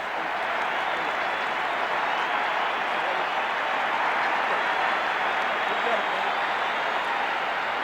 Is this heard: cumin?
no